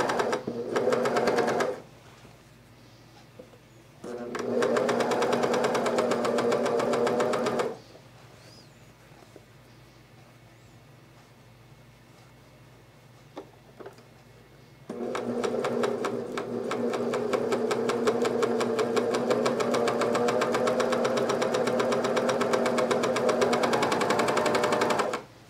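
A serger or coverstitch machine stitches fabric for camisoles with fold-over elastic, a loud close mechanical whir in three long runs separated by quieter pauses, the last run steady and sustained, with no talking.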